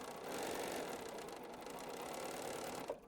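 A sewing machine stitches a quarter-inch seam on quilt block fabric, a fast continuous whir that is fairly faint and runs alone before it stops abruptly near the end.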